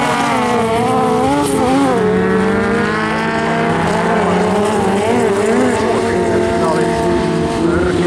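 Race cars battle wheel to wheel in a general-class A-final at Hyvinkää, engines howling and shifting pitch through gears amid tyre scrub, loud and continuous under an excited commentator's voice.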